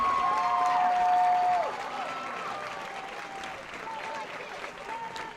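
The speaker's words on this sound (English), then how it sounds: "Please join me in one final applause for the Homecoming Court of" A football crowd applauds the homecoming court at a Corry Beavers vs. Mercyhurst Prep Lakers high school game. The clapping is spread out and distant, an announcer's amplified voice rides over the opening seconds, and the applause fades to a lower level.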